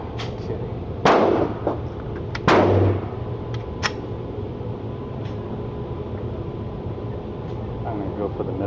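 Two sharp, loud pistol shots from a Smith & Wesson SD9 VE at an outdoor range, spaced about a second and a half apart, followed by fainter clicks and background noise.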